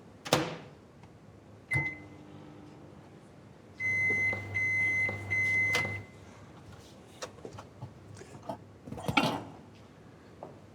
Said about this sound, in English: All we have to do now is pop in the microwave, cook for approx 10 minutes